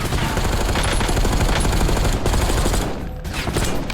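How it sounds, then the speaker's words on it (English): Loud, dense gunfire from unsilenced sniper rifles in the video game Warzone, cracking rapidly and almost without pause for several seconds before easing slightly near the end. "It's unsilent sniper shots they're shooting."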